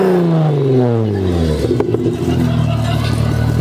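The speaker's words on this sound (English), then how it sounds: "Oh, you revving that up? You revving it up?" A car engine revs at a car meet, its rising harmonics climbing over a couple of seconds before settling into a steady, loud idle-like drone, with a brief clatter in the middle.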